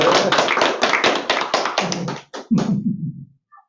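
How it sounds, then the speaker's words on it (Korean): A small group at a meeting claps briefly, with distinct individual hand claps close to the microphone in an uneven rhythm before stopping abruptly after about three seconds. "우선 박수부터 부탁드리겠습니다."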